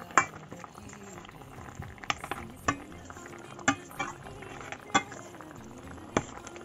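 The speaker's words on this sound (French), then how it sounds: "On mélange bien le tout et on laisse bien mijoter." Tamarind juice and water sauce simmering in a cooking pot for an Indian kuzhambu, a soft bubbling bed punctuated by several sharp clinks of a utensil against the pot at irregular intervals, with no talking.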